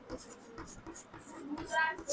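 A pen or chalk writes a math equation by hand in quick, light strokes and taps, mixed with a person speaking in a classroom-style lesson.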